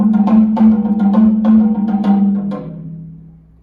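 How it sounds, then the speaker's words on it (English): Japanese uchiwa daiko fan drums played melodically, with a quick run of close, ringing strokes over a sustained pitched tone that fades out at the end. "The Japanese uchiwa daiko are these instruments here"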